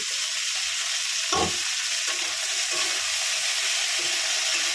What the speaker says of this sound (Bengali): কড়াইটা গরম হয়ে গেছে আমি তেল দিয়ে দিলাম আলুটা ভাজবো বলে